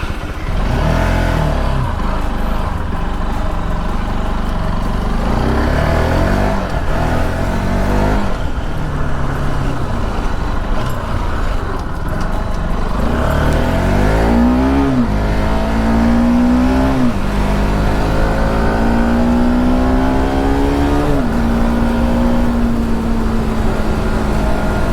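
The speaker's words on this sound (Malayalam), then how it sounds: "നമ്മൾ കൈ കൊടുക്കുമ്പോൾ തന്നെ കയറി പോകുന്നുണ്ട് വണ്ടി." A KTM Duke 200 BS3 motorcycle accelerates, its engine rumbling steadily and then climbing in rising revving sweeps through the gears, loud and close throughout.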